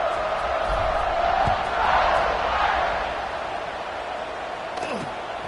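A college football stadium crowd at Navy vs Notre Dame roars just before kickoff, a continuous, dense wash of noise that swells and then eases slightly, with a faint voice over it.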